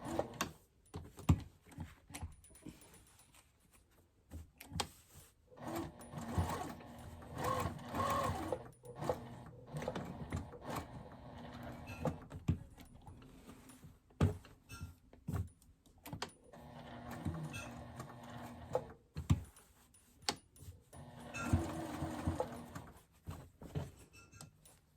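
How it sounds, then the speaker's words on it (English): A sewing machine stitches lace trim onto a cloth tote bag, its rapid mechanical whirring running in steady bursts with short pauses between seams, close and fairly loud throughout. "Okay, I'm just going to sew the lace on."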